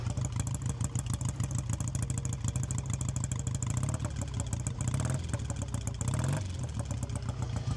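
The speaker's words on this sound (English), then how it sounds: "Take a little bit of warming up before we want to rev it because it's cold, so you can have a little listen by the exhaust." A cold motorcycle engine idles on choke while warming up, heard close at the exhaust: a loud, steady, even thumping beat with a brief rise in revs near the end.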